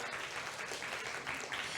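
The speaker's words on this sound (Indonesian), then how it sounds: "Tepuk tangan untuk kita sekali lagi Mama." Brief burst of audience applause from a gathering of women at an empowerment event, dense and fairly soft, lasting under two seconds.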